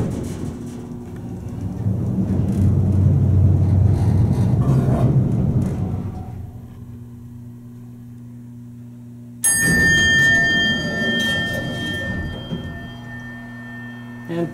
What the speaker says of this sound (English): elevator, a very interesting Westinghouse elevator. We'll start off by taking a ride on it.